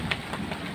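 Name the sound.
heavy rain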